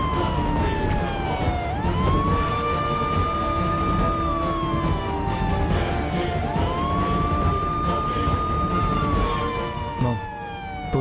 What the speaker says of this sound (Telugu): Police siren వినబడుతుందేంటి?